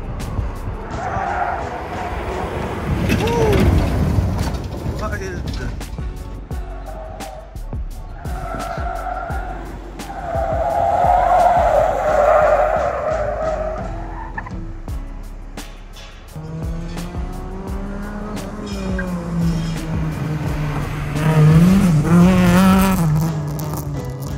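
Rally cars, including a Toyota Yaris rally build, roar and rev past on a loose dirt surface, with tires skidding and engines rising and falling; voices come and go faintly in the background.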